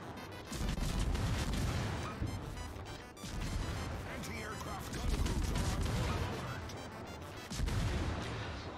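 Secondary guns fire in World of Warships, a dense, continuous barrage of overlapping booms and cracks with heavy low rumble, surging in waves for several seconds.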